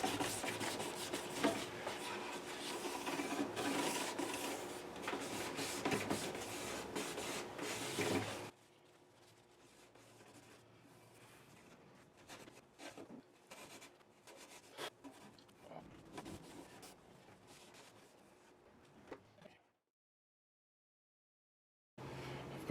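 Ebony polishing compound from 3M Final Finish being rubbed along classical guitar frets during a re-fret, a steady close scrubbing rasp for several seconds that thins to softer intermittent strokes, then a pause.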